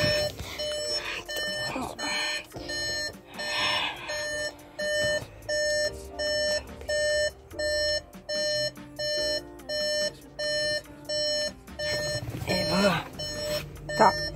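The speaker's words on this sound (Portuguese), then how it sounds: "aqui tá pitando." A Volkswagen Nivus TSI Highline gives off a regular electronic chime, repeating steadily about once per second. The tone is clear and close, and someone talks over it at the start and end.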